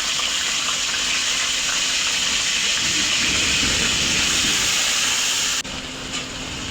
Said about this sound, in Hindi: और ये 1 टेबलस्पून अदरक लहसुन का पेस्ट है, ये ऑयल के अंदर ऐड करेंगे।